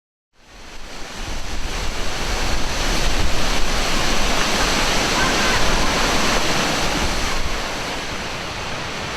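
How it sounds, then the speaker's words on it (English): Looking Glass Falls, a 60-foot waterfall on Looking Glass Creek, pours in a steady, loud broadband roar that swells in over the first seconds and holds close and unbroken. "Looking Glass Falls, perhaps the best known waterfall in the area, is a 60-foot high fall coming from Looking Glass Creek."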